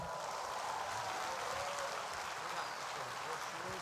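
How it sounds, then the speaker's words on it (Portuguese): Church audience applauding to welcome a pastor, a steady, even wash of many hands clapping at a distance, constant throughout, with faint voices mixed in. "Vamos recebê-lo aqui com aplauso."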